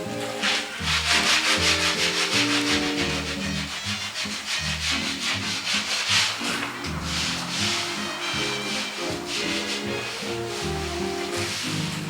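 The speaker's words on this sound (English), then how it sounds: "what I'm doing here is I'm sanding down." Rhythmic hand sanding with a sanding block scrapes back and forth across hardened Bondo filler on a fiberglass 1934 Ford street rod, loud and close, in steady repeated strokes.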